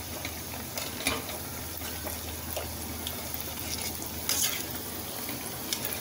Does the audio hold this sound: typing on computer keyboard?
no